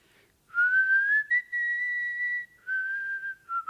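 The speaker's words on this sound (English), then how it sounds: "the whistling that you hear, and you'll hear it again this evening, we won't play it for you right away, is the Dvorak Going Home theme" A lone person whistles the Dvorak Going Home theme, a clear, close melody of sustained notes with brief breaths between the phrases, with no talking.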